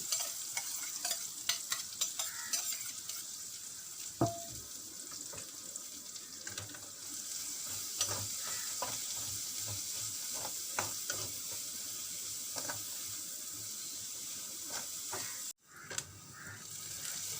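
Chopped onions sauté in a pan with a soft, constant sizzle, while scattered scrapes and clinks of a stirring utensil sound up close and a brief sharp knock comes near the end.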